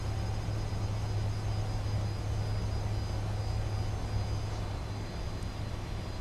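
Fokker F28 jet engines in Microsoft Flight Simulator 2020, a steady low rumble and hum with a faint high whine, constant and fairly loud, with no speech.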